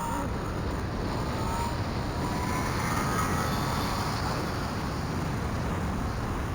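A Yamaha FZ-09 motorcycle rides through a second gear clutch-up wheelie, heard as a steady, broad engine and wind roar at constant loudness, with no distinct rev spikes standing out.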